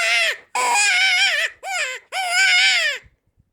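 A handheld reed predator call used for coyote hunting, with its reed sticking, sounds in four loud, wavering, crying squalls separated by short breaks, the notes bending and breaking up at close range.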